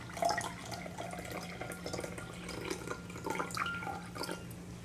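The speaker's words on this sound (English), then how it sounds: "I'm going to pour some water" Water poured into a glass in short splashing, dripping bursts, fairly close and steady at moderate level with no talking.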